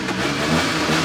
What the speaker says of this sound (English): that's good throttle response